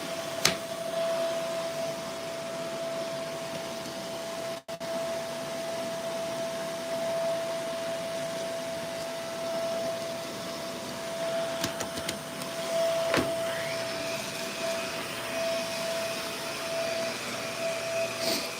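Vacuum cleaner droning continuously with a steady high whine and airy roar, a few brief knocks and clicks along the way, no voices.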